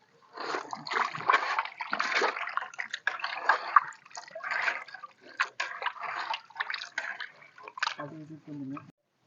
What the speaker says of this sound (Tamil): இப்போ வந்து பார்த்தீங்கன்னா கொஞ்சம் தண்ணி பிடிச்சிக்கலாம்